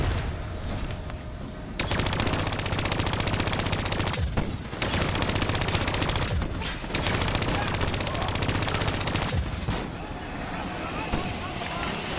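Sustained automatic gunfire in Call of Duty: Black Ops III, rapid dense bursts running almost continuously with a few brief pauses, loud and close, with game voices speaking over it.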